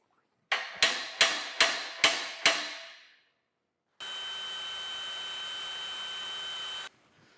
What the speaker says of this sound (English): Have to get a center punch to get a dimple to start that drill on.